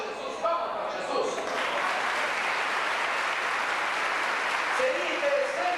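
Church congregation applauding at a 25th anniversary service, a dense, steady wash of clapping lasting throughout, with voices and cheers mixed in over it.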